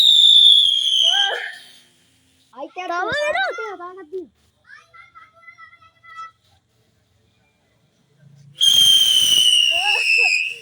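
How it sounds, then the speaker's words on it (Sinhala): A whistling ground spinner firework screams loudly at the start and again near the end with a piercing high whistle, and children's voices chatter in the quieter gap between. "විසිල් බම්බර චක්‍ර."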